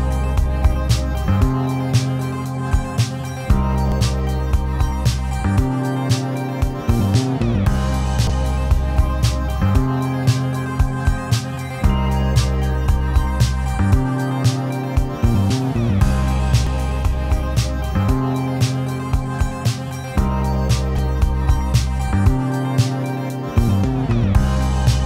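Finished master of a full music mix processed with the TDR Nova dynamic equalizer, steady loud track with punchy rhythmic beats and dense mid and high content throughout, no talking.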